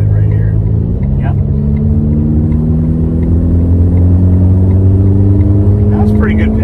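A car pulls hard in sixth gear, its engine drone rising steadily in pitch as it gains speed, loud and continuous with road rumble underneath.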